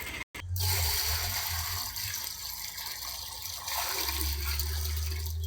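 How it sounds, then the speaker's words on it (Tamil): Water for pigeons rushes and gushes steadily after a brief click, a loud close pouring flow that swells again toward the end. "இப்போ வந்து நம்ம வந்து புறாவுக்கு வந்து தண்ணி ஊற்றிகிட்டு இருக்கோம்"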